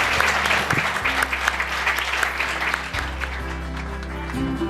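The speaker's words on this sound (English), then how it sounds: "let's all give those 2 a round of applause, please" Audience applause for two guests at a podcast's 200th-episode celebration, steady clapping from a crowd sustained throughout, with a low hum of music beneath.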